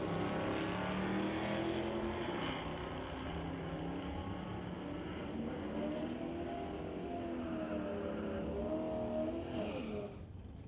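Drag race cars launch and race down the track at Mission Raceway Park, a loud, sustained engine roar that shifts in pitch as they accelerate and then drops away near the end.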